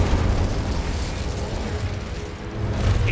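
Incendio fire spell cast in Hogwarts Legacy, a sustained roaring whoosh of flame with crackling bursts, loud and dense throughout, swelling again near the end.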